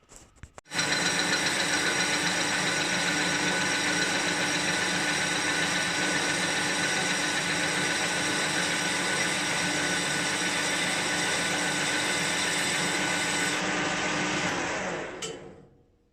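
A lathe runs in a workshop, skinning the face of a differential gear for a 2-inch scale Fowler showman's traction engine, a loud steady motor hum and cutting whine that starts abruptly and winds down near the end.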